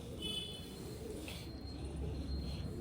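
Faint, low cooing of pigeons kept in a loft, soft murmuring calls over background noise with a few thin chirps, fairly distant and quiet.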